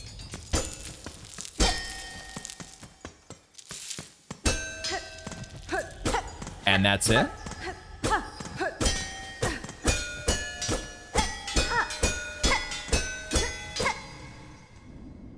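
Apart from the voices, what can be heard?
bells being struck in a room, from the video game Silksong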